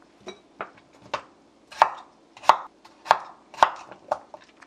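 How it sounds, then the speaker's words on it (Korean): A knife strikes a cutting board repeatedly, chopping potatoes into large chunks for curry: a series of crisp, evenly spaced thuds, close and clear, with no talk. "커리에 들어갈 채소 감자도 좀 큼직하게 썰어줄게요"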